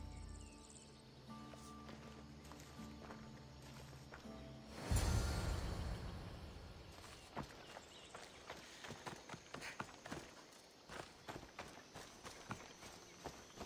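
Horse hooves clip-clop at a gallop in the video game Assassin's Creed Odyssey, a steady run of close, sharp hoofbeats following a loud whoosh, with faint insect chirping in the background.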